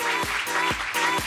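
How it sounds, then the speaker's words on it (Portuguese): Applause from the audience at a women entrepreneurs' forum as a guest is called up, steady dense clapping at moderate level through the brief moment, with a few recurring low thumps. "Uma salva de palmas para ela."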